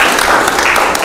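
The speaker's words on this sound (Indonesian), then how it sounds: "Tepuk tangan dulu." A classroom of students claps hands together in a short, dense burst of applause, close and fairly loud.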